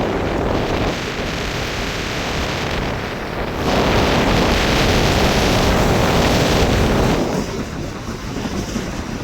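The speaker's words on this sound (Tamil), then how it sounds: "அதில் வந்து இந்த அலைகள தாக்கம் வந்து அதிகமாக இருக்கும்." Rough, heavy sea waves crash continuously along the Jaffna coast during a cyclone, with strong wind roaring against the microphone throughout, loud and close with no talking.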